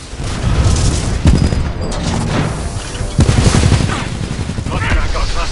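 Gunfire in Titanfall 2 bursts in repeated booming volleys, loud and close, with dense rattling shots and explosions layered over a busy in-game soundscape and occasional voice chatter.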